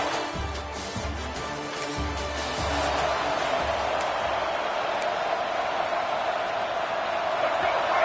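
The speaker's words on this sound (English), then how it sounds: "Listen to the crowd energy here in the early going." A college football playoff stadium crowd produces a broad, sustained roar that swells after the opening seconds, with a commentator's voice talking over the start before the crowd noise dominates.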